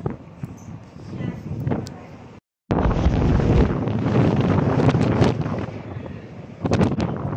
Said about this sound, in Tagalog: bali nandito kami sa lakas ng hangin